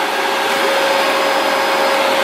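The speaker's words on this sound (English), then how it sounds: "that position is making the motor, the original feed motor, go" A steady electric hum with a constant pitched tone from the original wire feed motor of a Yes Welder 250A MIG Pro running continuously, close and fairly loud, no voices.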